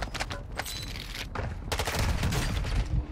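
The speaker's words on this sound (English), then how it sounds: "Yes, you want to be ignorant and shoot me." Rapid automatic gunfire from Call of Duty Modern Warfare II on Ashika Island, with dense bursts overlapping in a sustained fusillade that swells louder toward the end, alone without talk.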